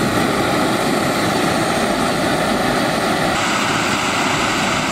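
Soto Amicus backpacking stove burning on a gas canister, a loud steady roaring hiss that holds constant and close throughout with no voices.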